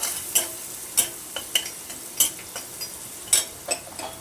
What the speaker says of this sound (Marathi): सर्व मिक्स करून भाजून छान घ्यायचं आहे